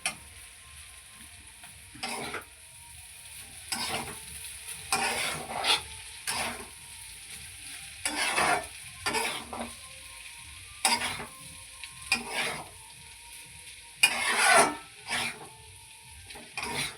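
Chow mein stir-fried in a hot pan: a steady soft sizzle broken by repeated close scraping strokes of a spatula at irregular intervals, with no talking.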